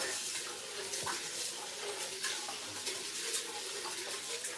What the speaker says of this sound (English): let's wash the rice in my small sink over here